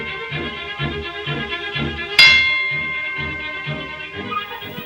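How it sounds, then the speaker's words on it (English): A single bell strike rings out clearly and fades slowly over a rhythmic musical backing. "he keeps ringing the bell"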